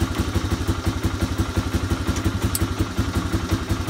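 A Honda Big Red 250 three-wheeler, a barn find, runs with a steady thumping single-cylinder idle while being shifted into reverse, a light clunk of the gear change riding over the loud, close, rhythmic engine beat.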